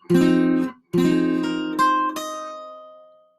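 Guitar plays the third measure of an etude: a strummed chord that stops, a second sustained chord, then two more plucked notes added on top, ringing out and fading alone.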